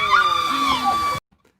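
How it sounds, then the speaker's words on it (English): A loud, wavering scream from a movie rings out for just over a second, then cuts off abruptly into near silence. "I love the scream."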